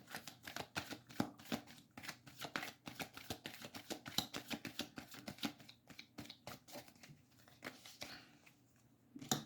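Tarot cards shuffled by hand in quick, rapid riffling bursts, close and fairly quiet, continuing steadily with brief pauses and no speech.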